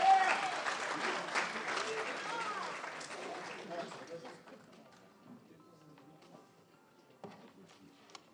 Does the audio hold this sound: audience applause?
yes